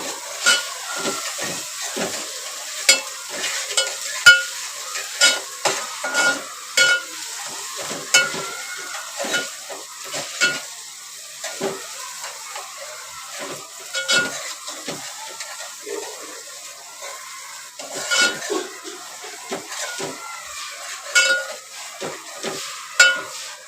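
Onion and crushed red garlic stirred and fried for a squid masala, with a crackling sizzle broken by repeated scraping stirs in an uneven rhythm, close and fairly loud.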